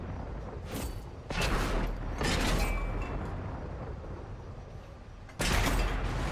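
Tank cannon fire in World of Tanks on console, with a T14 firing through a dead tank. Several heavy booming blasts each roll out into a long, rumbling decay, with a final loud shot near the end. Nobody speaks.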